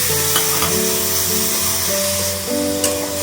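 Ground ginger, cumin and coriander spice paste hitting hot oil in a pan, making a loud, continuous sizzle with steady hiss and a faint tonal hum underneath.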